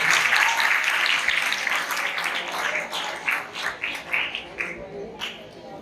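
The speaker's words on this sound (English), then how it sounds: "Please give a big applause." An audience at a school cyber security talk with the police applauds a guest invited on stage, starting as a dense wash and thinning into scattered, separate claps before fading.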